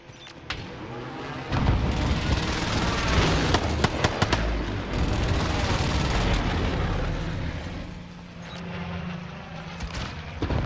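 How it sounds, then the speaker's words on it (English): Video game firefight with a precision airstrike: loud, dense bursts of explosions and rapid gunfire roll continuously and close, easing briefly near the end before picking up again. "Friendly precision airstrike inbound."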